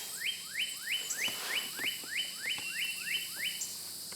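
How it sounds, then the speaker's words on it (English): A bird repeats a quick rising chirp about a dozen times in a steady rhythm, fairly clear against a quiet outdoor background. "I hear the birds."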